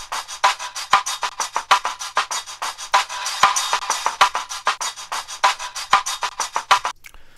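A drum loop with a 16th-note tremolo effect gives fast, evenly chopped pulses of a bright, noisy beat. The rhythmic stutter is steady and close, with no talking.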